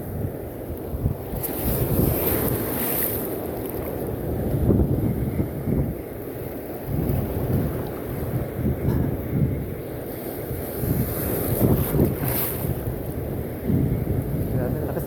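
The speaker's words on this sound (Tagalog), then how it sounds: "Lakas ang alon mga master." Heavy surf rolls and crashes close by on a fishing outing during a sudden strong northeast monsoon, mixed with strong wind buffeting the microphone in gusty bursts.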